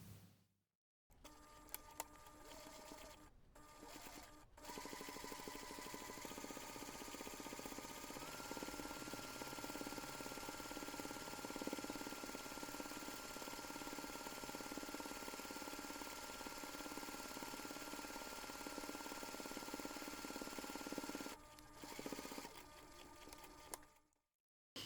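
Sewing machine top stitching around the edge of a round fabric drawstring pouch, a steady mechanical whirr running for about twenty seconds after a few brief starts, fairly close.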